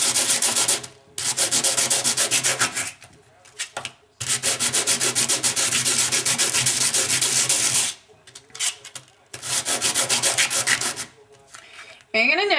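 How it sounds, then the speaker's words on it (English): Sanding a piece of fired sheet metal by hand with 80-grit sandpaper: long runs of loud, steady, close abrasive scraping, broken by several short pauses. "you're just going to sand the heck out of that piece that you just fired."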